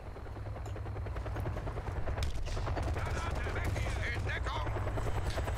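Helicopter rotor drone under rapid machine gun bursts in a Kane & Lynch: Dead Men shootout in Havana, loud and continuous with dense gunfire throughout.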